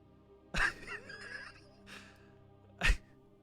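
A voice imitates a giant bird's loud, echoing screech in two harsh bursts a couple of seconds apart, with a softer cry between them.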